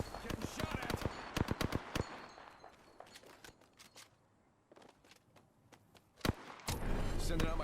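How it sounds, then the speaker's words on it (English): Rapid gunfire from an Apex Legends match: sharp, loud shots in bursts, dense at first, thinning out mid-clip, then a heavy blast and sustained roar near the end, with a voice talking over parts of it. "Getting shot at."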